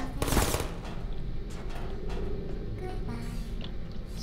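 Gunfire in the Portal Prelude video game: a loud burst of rapid shots near the start, then a steady rumbling din with scattered sharper cracks continuing throughout.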